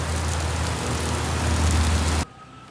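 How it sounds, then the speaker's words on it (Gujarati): Sudden heavy rain pours down in Pokhara Lakeside, Nepal, a dense, loud, steady hiss of drops close by that cuts off abruptly near the end, with no talking. "બાકી વરસાદ યાર અચાનક આવી ગયો તગડો"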